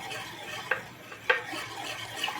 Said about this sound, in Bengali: বিস্কুটের গুঁড়ো করে নিয়েছি, ওটা অল্প অল্প করে দেবো আর এইভাবে মেশাতে থাকবো